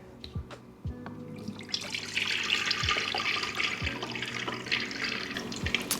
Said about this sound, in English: now we got to get our lovely juice pour